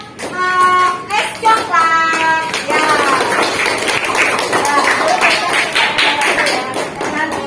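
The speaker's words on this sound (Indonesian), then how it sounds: "Beri tepuk tangan untuk kelompok" A classroom of children claps for a group that has just presented its product. A voice speaks first, then scattered, lively hand clapping and tapping follow and carry on to the end.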